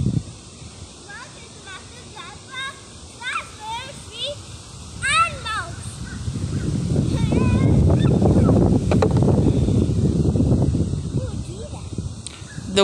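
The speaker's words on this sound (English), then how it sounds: "The wind. The wind?" Wind gusts buffeting the microphone outdoors, building into a loud low roar in the second half, with a child and an adult chatting over it.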